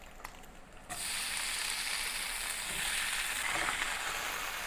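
Omelet and ham frying in a pan, a steady close sizzle that swells louder about a second in as the ham hits the hot surface, then hisses on evenly with faint crackles.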